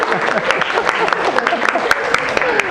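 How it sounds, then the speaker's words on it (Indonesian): Students clapping together in a classroom during an ice-breaking game, scattered claps mixed with lively voices and chatter throughout. "Tepuk tangan buat kita semuanya."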